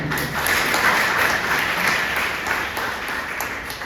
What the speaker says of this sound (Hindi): एग्जैक्टली, बहुत बढ़िया, तालियां हो जाएंगी।